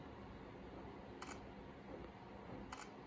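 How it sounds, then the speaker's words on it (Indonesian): Camera shutter clicks from a Vivo Y17 phone, two crisp snaps about a second and a half apart over a faint steady room hiss, close and fairly quiet. "itu kan ada suara cekrek-cekrek ya"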